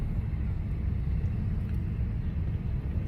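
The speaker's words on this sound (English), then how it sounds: "There's so much traffic out here." Steady low rumble of street traffic outdoors, continuous and fairly loud with no distinct passing vehicles standing out, like a busy road heard from nearby.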